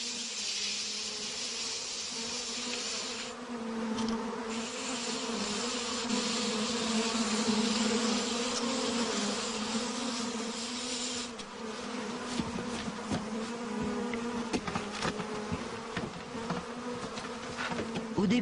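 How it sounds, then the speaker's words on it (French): A loud, continuous buzz of a honeybee swarm calmed with cold water, dense and steady throughout, with a faint rushing noise underneath. "L'eau froide a le mérite de calmer les abeilles"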